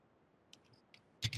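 A computer mouse gives a few faint single clicks, then a louder quick double click at the end, close and dry in a quiet room.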